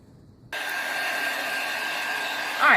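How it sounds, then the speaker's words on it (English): A low-heat hair dryer blows onto a stencil, switching on abruptly after a moment of quiet and then holding a steady, close whirring rush of air. "you can also dry the stencil with a low heat dryer"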